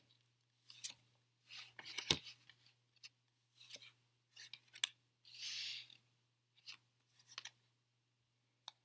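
Tarot cards are drawn and shuffled from a deck, giving quiet, close slides, snaps and paper rustles in short bursts against a faint steady hum.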